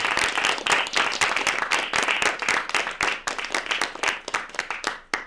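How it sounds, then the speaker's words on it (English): A studio audience claps at the close of a university-recorded congressional interview, producing a few seconds of lively, uneven applause with distinct individual hand claps near the microphone. "a big round of applause for our studio audience today"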